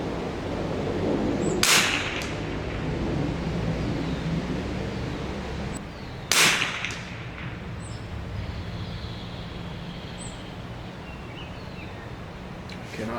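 Springfield 2020RF rifle firing Aguila Subsonic rounds outdoors, two sharp cracks several seconds apart over steady background hiss and wind.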